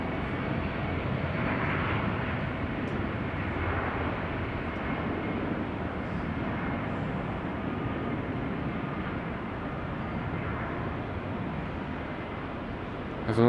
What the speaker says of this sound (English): Alright, Finnair